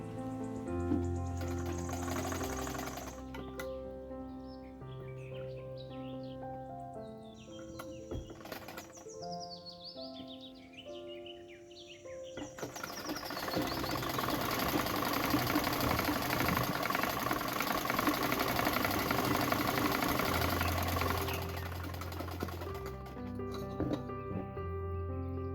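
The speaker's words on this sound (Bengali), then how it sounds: "দেখুন আরেকটি পার্ট সেলাই করে নিচ্ছি।" A sewing machine stitches part of a women's salwar pant in steady rapid runs, pausing briefly mid-way and then racing on loudly, with faint bird chirps behind.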